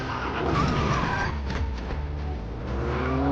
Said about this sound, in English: stepped on the gas and took off